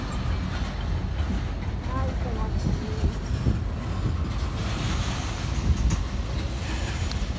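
A BNSF train rolls past close by with a loud, steady rumble, rhythmic wheel clatter and a few brief squeals, while a person talks near the tracks.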